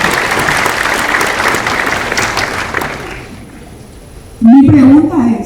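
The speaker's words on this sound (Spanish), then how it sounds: "Aplauso por la palabra." An audience at a business panel applauds in a dense burst for about three seconds, then the clapping fades out. A voice speaks up loudly right after.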